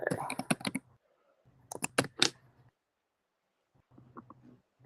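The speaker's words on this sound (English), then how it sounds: "I hear the typing happening" Bursts of quick keyboard typing, clicky and close, with pauses between flurries.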